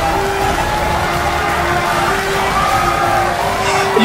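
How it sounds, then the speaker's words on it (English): A large crowd roars and cheers continuously in a dense, steady wash of noise, sounding like a packed arena. "You can hear the crowd."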